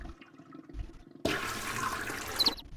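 A toilet in the video game Chaos on Deponia flushes with a sudden loud rush of water that lasts over a second before cutting off, following quieter clunks, with no talking.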